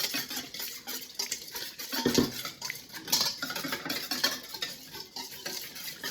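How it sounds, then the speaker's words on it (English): A whisk beats against the sides of a large bowl for a kale and quinoa salad, giving rapid light metallic taps and scraping in uneven bursts, close and fairly quiet. "I'm gonna just whisk this"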